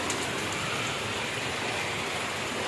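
Steady, dense patter of rain falling in sunshine close by, a soft continuous hiss with no voices.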